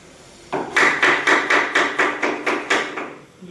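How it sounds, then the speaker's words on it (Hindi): A hammer drives into plywood laid over a furniture frame to join the pieces, about seven sharp, evenly spaced blows ringing out close up with nothing else heard. "ये प्लाई इसके ऊपर डाल लिया और अब हम इसको ठोक लेते हैं"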